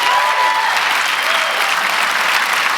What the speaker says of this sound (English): Huge round of applause for our speakers again today.